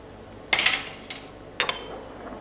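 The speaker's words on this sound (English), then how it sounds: "Give this a quick stir" A highball cocktail of añejo spirit stirred briefly in a glass: a couple of quick, bright clinks of spoon against glass, close and short, with quiet pauses between.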